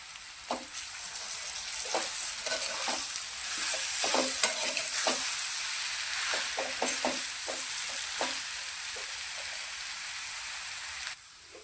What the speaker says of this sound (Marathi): बारीक चुरलेला सर्व बटाटा टाकून चांगलं मिक्स करून घेऊया